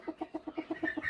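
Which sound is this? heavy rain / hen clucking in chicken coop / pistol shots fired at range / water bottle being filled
hen clucking in chicken coop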